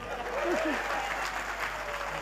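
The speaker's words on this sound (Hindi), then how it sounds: "अब क्या एक एक के कान में आके कहूं कि ताली बजाओ?" An audience at a Hindi comedy poetry show applauds, steady dense clapping throughout with a voice speaking over it.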